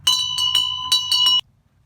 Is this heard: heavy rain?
no